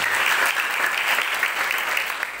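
A church congregation claps together at an Indonesian evangelistic service, a dense, even applause heard close and alone for a couple of seconds.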